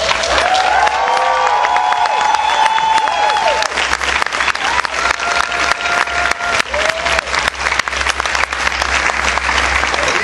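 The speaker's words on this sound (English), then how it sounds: "you guys are going to have to make it up by cheering louder than you typically would for a member of the editorial department" Audience at a Batman comic convention panel cheering and applauding, dense continuous clapping with whoops and whistles rising over the crowd, loud and close for the whole stretch.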